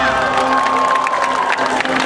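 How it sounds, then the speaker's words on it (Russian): Loud crowd cheering and clapping at an international festival as jury members are introduced, with excited shouts and whoops over steady applause and a sustained tone running underneath. "под ваши бурные аплодисменты"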